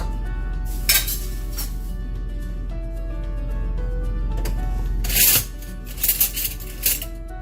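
Metal spoon scraping and clinking against a pot while scooping creamy coconut-milk chicken curry sauce, a few sharp clinks over a steady low hum, close by.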